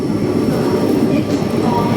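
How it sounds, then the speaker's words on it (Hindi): Rajya Rani Express train from Nanded to Mumbai overtaking the Gorakhpur Dadar Special Express at a railway station, a steady loud rumble of rolling wagons with faint rail clatter throughout. "वासिन रेलवे स्टेशन पर हमारी ट्रेन ओवरटेक करने जा रही है गोरखपुर दादर स्पेशल एक्सप्रेस को।"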